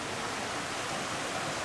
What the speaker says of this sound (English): Lots of little waterfalls.